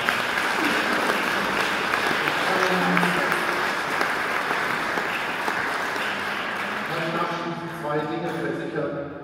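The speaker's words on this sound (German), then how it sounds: "Ich denke, ein Applaus für alle," Dense applause from an audience at a zoo talk event in Wuppertal holds steady and loud throughout, then thins slightly toward the end, where a voice starts speaking under it.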